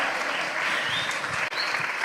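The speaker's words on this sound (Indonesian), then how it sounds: "Kasih tepuk tangan yang meriah dong." Audience of university students clapping after a speech, a brief, loud, dense burst of applause close by.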